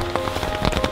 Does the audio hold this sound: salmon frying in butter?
no